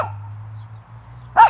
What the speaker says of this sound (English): What are you even barking at, bro?